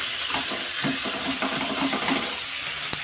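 Raw ginger and garlic sizzling in hot oil, a continuous close hiss with a few soft stirring knocks and a small clink near the end.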